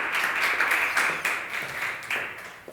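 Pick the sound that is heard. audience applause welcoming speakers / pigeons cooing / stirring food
audience applause welcoming speakers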